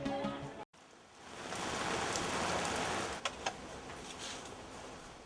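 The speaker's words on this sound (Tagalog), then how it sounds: "Patuloy ang pagpapagawa ng bahay ni Mang Alex kahit umuulan." Steady rain pours during work on a house under construction, a dense, even hiss with a brief cut near the start and a couple of faint knocks later, with no one speaking.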